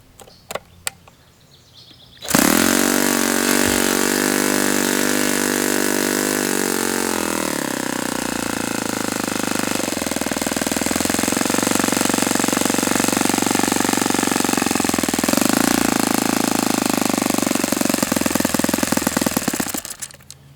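A Saito FA-91S four-stroke model airplane engine starts up after a quiet moment and runs loud and steady alone, its pitch dropping as the throttle is eased back to a lower idle, then rising again near the end before cutting off.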